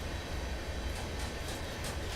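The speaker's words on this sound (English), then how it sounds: "we can wait for this train to pass by" A long train in the Railworks train simulator game rolls past in a steady, dense rumble with hissing wheel noise, continuous and fairly loud throughout.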